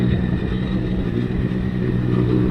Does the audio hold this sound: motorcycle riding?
yes